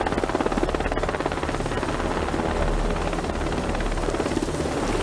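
Helicopters in the video game House of Ashes, set at a 2003 Iraqi military base: a steady, loud rotor drone with a chopping pulse that fills the whole stretch without pause.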